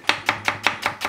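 A kitchen knife chops through a shallot on a cutting board in six quick, evenly spaced strikes, crisp and close with nothing else heard.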